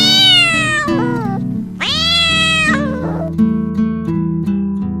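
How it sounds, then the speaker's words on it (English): Two cats squabble over a piece of bread, trading loud, drawn-out meows and wails that rise and fall in pitch. Shorter cries come between the long calls, and the cats sound near. "he saw cats are fighting for the larger piece of bread"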